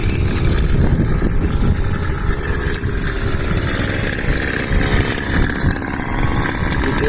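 A motorized sprayer runs steadily and loud throughout, spraying oil over a watermelon crop in a hillside field, its engine drone continuous with no talking.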